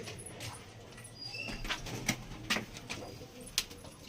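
Pigeons in a loft, faint soft cooing and rustling with a few sharp knocks and flutters of movement, quiet and close, a low hum underneath, no talking.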